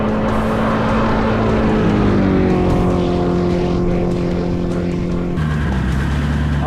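A turbocharged LS V8 engine in a jet ski revving hard, a loud, close, sustained droning howl whose pitch sags slightly, then drops abruptly as the revs fall near the end.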